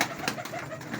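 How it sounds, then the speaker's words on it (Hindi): Pigeons at a bird dealer's in Lahore give soft, throaty coos in a quick, rolling pattern, close and fairly quiet, with no talk over them. "ये देखें ये कबूतर बच्चा कैसे जी"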